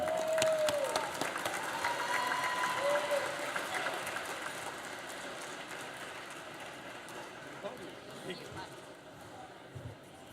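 An audience at a Deloitte sponsor event applauds to welcome a speaker to the podium, a broad wash of clapping that starts fairly loud and slowly thins and fades toward the end.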